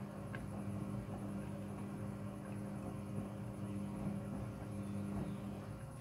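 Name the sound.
Midea front-loading washing machine drum turning, wash starting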